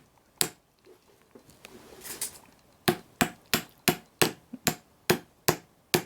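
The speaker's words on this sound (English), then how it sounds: "Hammer a little harder in the center" Hammering on a part of a Radio Flyer push/pull convertible stroller wagon during assembly: a single strike, a quiet pause, then a steady run of about nine sharp, evenly spaced blows close by.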